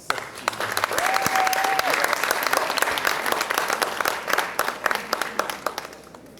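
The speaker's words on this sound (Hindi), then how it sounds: "मेरी मुराद है आपकी भरपूर तालियों में डॉक्टर फ़खर अब्बास से।" Audience applause at a poetry gathering in Lahore, a dense sustained clapping from a crowd that stays full and steady for several seconds before thinning toward the end.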